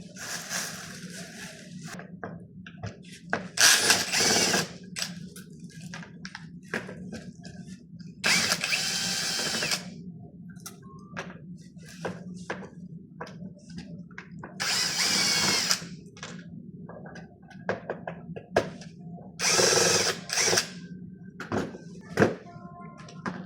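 Power drill working on the bolts of an Appolo executive office chair, several separate whirring bursts of a few seconds each with ratcheting clicks and handling noise between them, close by with a steady low hum underneath.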